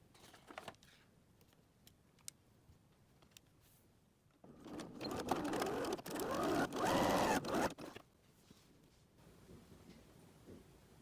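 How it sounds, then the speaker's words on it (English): A sewing machine stitches a seam across wallet lining pieces with a half-inch seam allowance, running in one steady, close burst of about four seconds in an otherwise quiet room. "we're gonna sew across with a 1/2 inch seam allowance"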